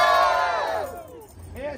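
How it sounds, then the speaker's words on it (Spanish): A crowd on a street procession in Guanajuato, Mexico, lets out a loud, excited group shout that swells and then fades, with a fresh burst of voices rising near the end. "el público grita"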